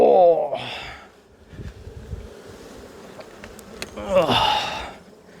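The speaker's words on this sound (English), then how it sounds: "You guys, that's a lot of bees." Honey bees buzz around an opened hive during an inspection, a steady insect drone filling the clip, with louder close passes near the start and end and a person breathing or murmuring briefly.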